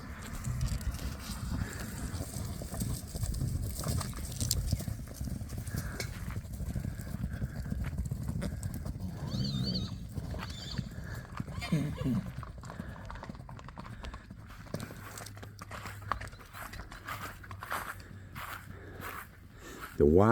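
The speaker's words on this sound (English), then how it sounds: "Wild Horses of Eua coming right through the main street, right main part of town." Wild horses of Eua, Tonga walking through the main street of town, their hooves clip-clopping steadily on the road with faint crunching, near and fairly loud, while voices talk over them.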